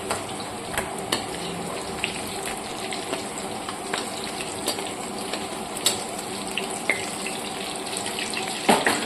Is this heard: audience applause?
no